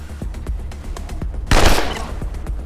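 Gunfire in the Wasteland 2 video game: a series of sharp single shots spaced through the moment, with one louder, denser burst in the middle, fairly close and prominent.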